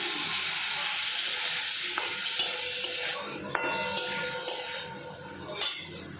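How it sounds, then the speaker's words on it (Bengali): Vegetables and spices sautéing in a pan with aubergine, a steady loud sizzle and frying hiss with a spoon scraping and tapping the pan now and then, no talk. "তো এটা এখন কষবো, আর লেগে গেলে একটু জল দিতে পারো।"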